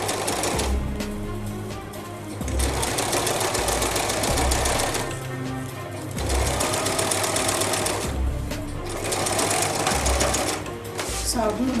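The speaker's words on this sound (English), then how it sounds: "So I'm going to start sew on one side first." Sewing machine stitching a Fila native cap, running in loud mechanical bursts of rapid stitching separated by short pauses, close up and alone.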